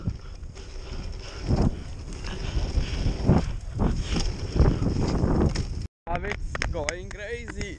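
Strong wind buffets the microphone in a loud, continuous roar outdoors on the way to a pump track, with voices shouting over it before a brief dropout and a clearer stretch at the end.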